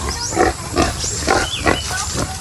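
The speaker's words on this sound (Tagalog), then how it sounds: "So yung iba ang baboy natin na doon sa kabila." Pigs on a farm grunt and squeal in a series of repeated bursts roughly every half second, close and fairly loud over a steady barnyard background.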